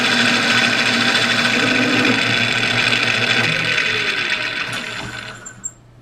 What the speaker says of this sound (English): 20 thou finish cut just on aluminum.